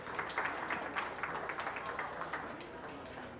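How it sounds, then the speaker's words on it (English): Audience applause at a county fair open beef show: light, steady clapping from a modest crowd, fairly distant and soft. "Give her a round of applause"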